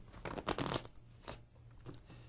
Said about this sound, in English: I want you to shuffle those cards.